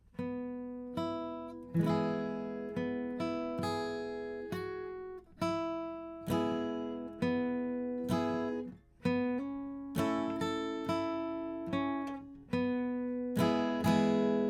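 A slow acoustic guitar melody, part two of 'Wildwood Flower', single plucked notes and occasional strummed chords ringing out one after another at an unhurried, steady pace.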